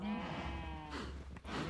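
A Minecraft cow lets out a drawn-out, wavering moo, followed by a shorter second moo, clear and close with nothing else over it.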